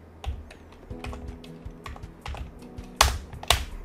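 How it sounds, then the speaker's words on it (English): Keys tapped on a computer keyboard while writing HTML with Emmet, a sparse run of light clicks with two sharper, louder strikes near the end, close and alone. "I need to have like a space and then type a custom attribute."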